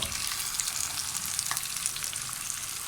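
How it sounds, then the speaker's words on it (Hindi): Okra and onions fry in hot oil over a high flame, giving a steady, dense sizzle that runs unbroken throughout, close and fairly loud, with no voices. "हम भिंडियों को और प्याज को अच्छी तरह ऑयल में फ्राई कर लेंगे।"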